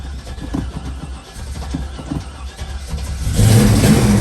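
A 1970 Chevrolet Chevelle V8 cranks in a few uneven chugs, then catches and settles into a loud, steady idle close by.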